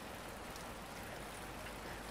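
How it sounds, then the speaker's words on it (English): Steady rain in the video game Croatoan falls as a soft, even hiss of drops on a surface, quiet and continuous with no voices. "the rain is once again not good"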